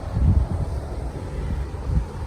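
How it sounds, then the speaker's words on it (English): Wind gusting outdoors beside a canal where narrowboats moor on a cool evening, a steady low rumble with swelling buffets against the microphone, no voices. "Windy, cooler evening than it has been."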